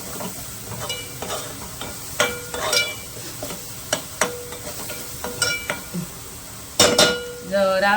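Garlic cloves and green chillies frying with fenugreek leaves in a pan, a continuous sizzle under repeated stirring clinks and scrapes, with a brief spoken word near the start.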